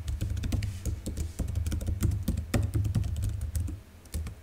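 Rapid typing on a computer keyboard while entering an email address: a steady stream of crisp, close clicks with an irregular rhythm and brief pauses, heard on its own.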